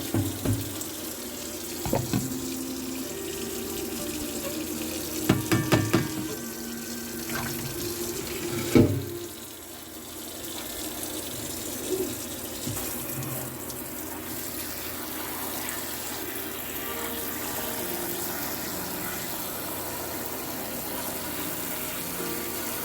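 A kitchen tap runs steadily into a sink while chitterlings are rinsed, the water flow constant and fairly soft, broken early by a few sharp clatters and splashes.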